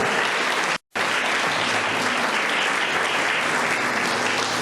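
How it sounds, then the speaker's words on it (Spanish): A church congregation at a 60th anniversary service claps loudly and continuously, the dense applause broken only by a brief dropout near the start. "Den un aplauso al Señor."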